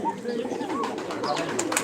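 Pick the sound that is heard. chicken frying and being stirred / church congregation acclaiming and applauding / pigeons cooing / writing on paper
pigeons cooing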